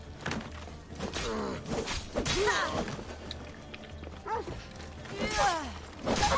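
A dog in the video game Assassin's Creed Odyssey barks and whimpers in short, pitched cries amid thumps and scuffling, with in-game voices around it.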